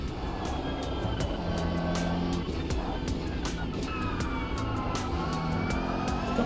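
Transmission whine from a car in a sim racing video game, a steady mechanical drone with rising and falling gear tones and faint shift changes, under busy engine noise with no speech.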